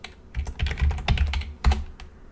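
Quick bursts of keystrokes on a computer keyboard, close and crisp, with uneven clattering taps and no voices.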